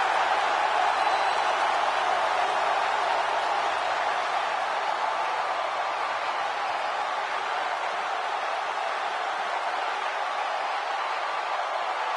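Steady roar of a large arena crowd cheering in a wrestling video game, continuous and loud throughout with no talk over it.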